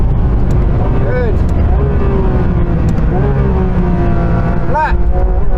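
A modified Porsche GT3 RS engine pulls hard at full throttle on track, its loud, continuous howl rising and falling through gear changes, with a brief lift, while a voice talks over it.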